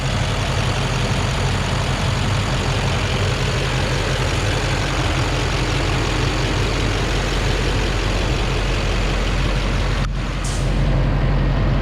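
A 2007 Chevrolet Silverado LBZ diesel pickup engine with EGR deleted idles with a steady low rumble and clatter, loud and close, broken by one brief sharp knock near the end.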